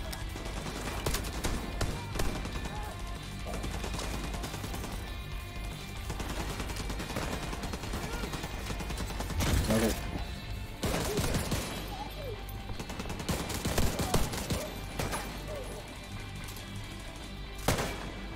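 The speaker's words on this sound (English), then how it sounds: "I hate this three-shot burst weapon, it's actually ass" Rapid bursts of gunfire from a three-shot burst weapon in a video game, loud and repeated throughout over a dense battle din, with crashes and heavier shots mixed in.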